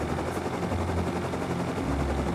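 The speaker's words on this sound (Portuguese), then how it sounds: "tô pegando confiança de novo no helicóptero. Já tô pilotando bem." A helicopter in the video game Rust roars continuously, a dense, loud rotor-and-engine wash filling the whole stretch without letup and no voices over it.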